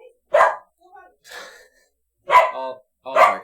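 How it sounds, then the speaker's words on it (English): Dogs barking indoors in a house, several loud, close barks in uneven bursts with short gaps, one yip-like call between them. "all barking."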